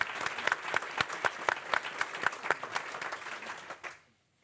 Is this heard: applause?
yes